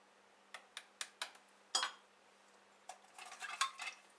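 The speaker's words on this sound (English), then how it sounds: "just keep poking the end of your spoon in, just to make sure you got all those bubbles out" A spoon pokes into apple crumble filling packed in a glass jar, giving a run of sharp clinks and taps: several evenly spaced hits, a louder knock, then a faster cluster of scraping contacts, close and quiet, with no voices.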